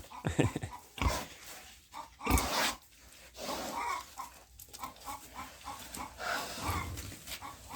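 A domestic wild boar grunts and snorts close by in short, irregular bursts, with quieter snuffling between them.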